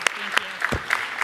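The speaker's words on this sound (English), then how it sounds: "Give yourselves another big round of applause." Scattered rounds of clapping from an audience at an arts and entertainment industry forum honouring interns, with sharp bursts spaced apart and voices faintly mixed in between.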